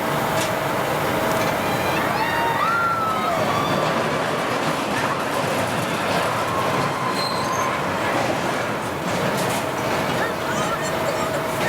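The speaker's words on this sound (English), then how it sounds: "It just runs the one train now, as you can see, with 2 cars." A two-car amusement park train rolls along its rails with a steady rumble, faint squeals and clatter of wheels, heard continuously at moderate volume with brief voices in the background.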